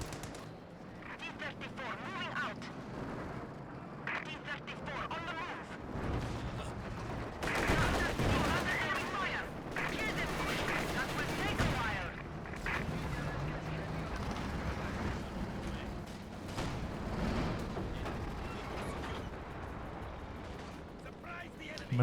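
Calliope rocket artillery in a war video game fires a long, rumbling series of launches and blasts under a busy battle din, with a voice talking over parts of it.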